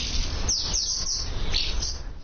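Migratory birds at a village in southern Hungary chirping, a dense chorus of high twittering calls with repeated sharp upward chirps over a low background rumble.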